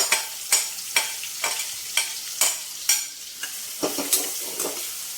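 Mustard seeds crackle in hot oil as onions go in, a bright sizzle punctuated by a regular series of scraping stirs and taps about every half second, close and clear without speech.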